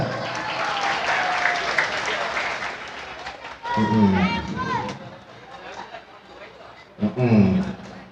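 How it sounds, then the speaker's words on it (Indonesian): Audience applause for children at a Nahdlatul Ulama anniversary gathering in Tambun Selatan, Bekasi, with clapping and crowd murmur that swells and fades, while an adult's voice and children's voices cut in over it. "Tepuk tangan buat anak-anak kita."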